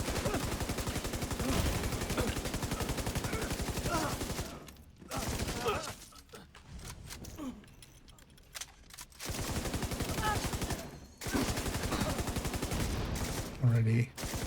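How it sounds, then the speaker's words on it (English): A light machine gun in a shooter game fires long, sustained, dense bursts at close range, broken by brief pauses, with a voice talking over some of the firing. "you don't have my shooting or my LMG going batshit insane"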